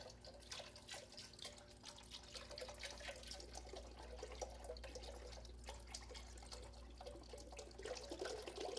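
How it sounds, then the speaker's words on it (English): Tap water runs into a cooking pot for chicken, ham and sausage gumbo, a faint, steady trickle with soft splashes and drips over a low background hum. "I'm going to add water"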